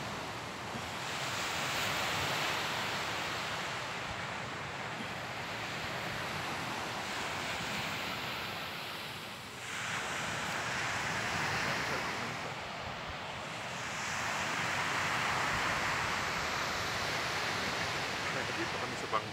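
Sea waves surging onshore near the Bangui windmills in Ilocos, a continuous broad wash of surf rising and falling in slow swells, with steady wind buffeting the microphone throughout.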